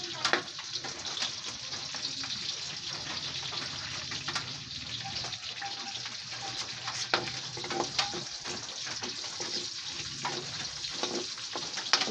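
Garlic sautéing in a pan as the first step of a home-cooked Filipino dinuguan, a steady broadband sizzle with light stirring scrapes and occasional ticks, held close and even throughout without speech.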